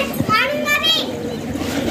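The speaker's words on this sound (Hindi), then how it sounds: "बच्चों की आवाज़ें भी आ रही होंगी जी," Children's voices chatter and call out in the background, lively and fairly close.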